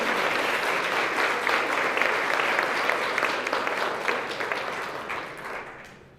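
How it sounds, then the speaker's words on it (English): An audience at a student employee of the year award ceremony claps steadily, a dense roomful of applause that holds for several seconds and then tapers off. "feel free to clap,"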